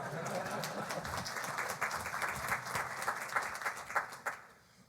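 Applause from an audience at a panel discussion on Catholic-Jewish relations, a soft, fairly distant patter of clapping lasting a few seconds before tapering off, with faint voices underneath.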